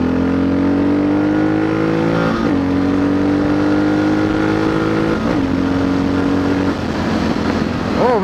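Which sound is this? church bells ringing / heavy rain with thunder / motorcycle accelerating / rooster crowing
motorcycle accelerating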